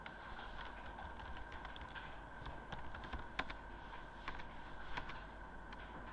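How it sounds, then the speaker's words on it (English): Fairly quiet keyboard typing while working in C: steady clusters of light keystrokes with occasional sharper taps over a soft background hum, with no speech. "we'll put the space back in Sean Mullery there and type it again"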